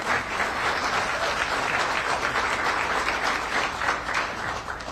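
A crowd at a state bill-signing event for community solar and energy storage breaks into loud, dense applause, a continuous wash of many hands clapping close by that holds steady throughout.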